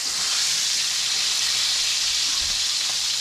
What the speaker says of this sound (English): I'm going to sear it in the bacon grease